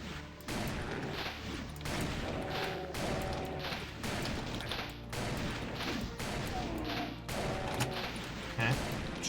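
A space lever gun firing in a video game: a series of sharp, loud shots at a steady, repeating pace over a busy game soundscape, with a voice talking briefly.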